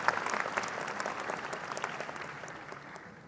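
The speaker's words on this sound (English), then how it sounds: "So a round of applause to thank your loved ones and family in the audience today." Audience applause fills a graduation hooding and awards ceremony at UNE's Westbrook College of Health Professions, a dense, steady clapping from a large crowd that holds for several seconds and slowly thins toward the end.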